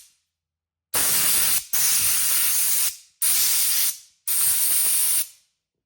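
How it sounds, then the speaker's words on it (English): Compressed air blasts debris out of the engine bay of a Volkswagen Rabbit Mk1 diesel, four loud, close hissing bursts of about a second each, separated by short pauses, with no talking. "I'm gonna blow in there to get as much of this stuff out as I can"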